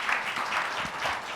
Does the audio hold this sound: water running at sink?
no